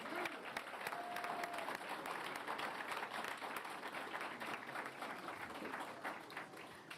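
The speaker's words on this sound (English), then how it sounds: "Let's give them all one more round of applause." A room full of people at a school board meeting gives a sustained round of applause, dense and steady from start to finish with no talking over it.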